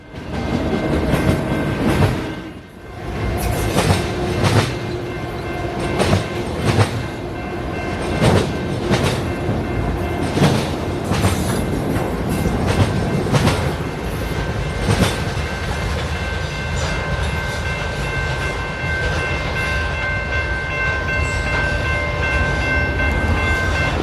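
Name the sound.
train X203 passing on mainline railroad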